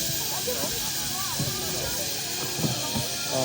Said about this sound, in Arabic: اول ما حط الفحم البخار زاد